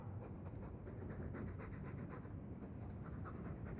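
Mabari war dog in a fantasy video game panting steadily in soft, rhythmic breaths, close and continuous under a low rumbling ambient bed.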